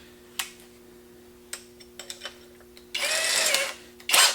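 A cordless drill set to stage 3 drives a self-tapping screw. After a few light taps, there is a loud, close whirring burst of about half a second, then a second short burst near the end.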